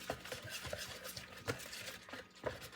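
A whisk beats sourdough starter in a bowl until bubbly, producing quiet, steady rhythmic stirring with periodic soft clicks against the bowl, close and alone without talking.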